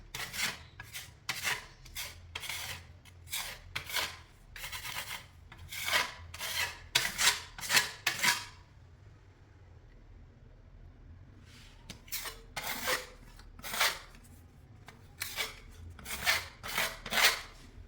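A tool scrapes across plaster freshly applied to kitchen cabinets, making repeated rasping strokes in steady bursts with a short pause midway. The strokes sound close and fairly quiet, with no talk.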